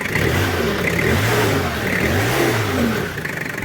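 A diesel engine, freshly cleaned after being mistakenly fuelled with gasoline, runs loud and close, its pitch rising and falling in a few gentle revs with a smooth, steady tone and no voices.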